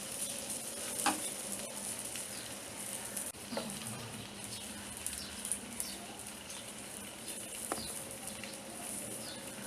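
Malpua, a Maharashtrian sweet pancake, frying in an uncovered pan over low heat, with a continuous soft sizzle and bubbling plus occasional faint clicks, steady and fairly quiet.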